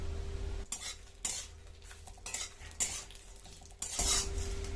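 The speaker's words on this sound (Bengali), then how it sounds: "আলাদা একটা কড়ার মধ্যে ঘি দিয়ে তেজপাতা, কাজু, এলাচ আর কিশমিশ দিয়ে হালকা করে ভেজে নেব।" Bay leaf, cashews, cardamom and raisins fry gently in ghee in a kadai, with a faint sizzle under repeated scraping and clinking strokes of a spoon stirring against the metal pan.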